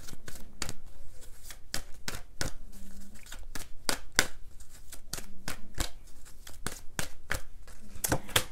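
Playing cards being drawn and flipped for a tarot-style love reading, heard as a steady series of close, crisp snaps and shuffling flicks with no talk.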